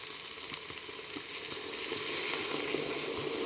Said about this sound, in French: Ensuite, nous allons rajouter la bière.